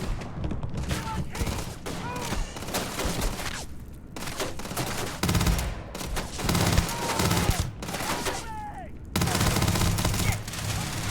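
Sci-fi gunfire from the video game Starfield crackles in rapid bursts and volleys, mixed with thuds and booms, while a player's voice talks intermittently over the steady combat noise.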